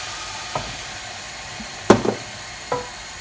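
Flour roux cooks in a hot pan with a low, steady sizzle, broken by three sharp clicks of stirring or scraping, the middle one loudest.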